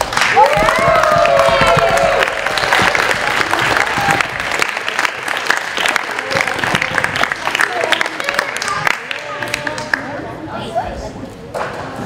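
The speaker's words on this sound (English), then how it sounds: "Can I have a round of applause for Anthony too?" A round of applause for an award recipient at a community recognition event, loud clapping at the start that thins into scattered claps, with voices and crowd noise mixed in.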